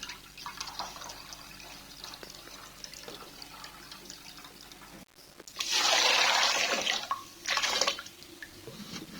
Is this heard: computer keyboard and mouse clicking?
no